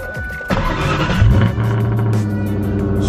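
A car engine cranks briefly, catches and starts, then settles into a steady, loud idle close by.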